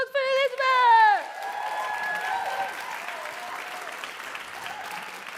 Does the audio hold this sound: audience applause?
yes